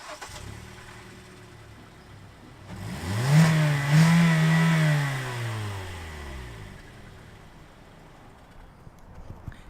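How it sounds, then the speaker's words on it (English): A car engine fitted with its stock muffler, before a muffler delete, is revved once close up: a low, muffled note swells and climbs, holds for a couple of seconds, then winds back down to a quiet idle. "take off the muffler, and we're gonna show you guys how it sounds"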